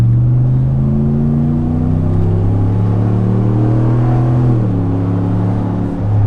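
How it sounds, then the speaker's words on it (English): A 2019 Ram Rebel V8 with an aftermarket exhaust revs steadily, its deep bassy rumble rising in pitch and holding loud and close throughout, with no talking. "it sounds very similar to the stock exhaust. It just has a bit more bass to it, which, you know, it just sounds like a V8 now"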